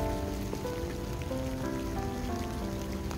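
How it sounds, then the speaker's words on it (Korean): Steady rain falls outdoors near a spot where stray cats shelter under a car, a continuous even patter with no voices heard. "비가 오고 있어. 엄마."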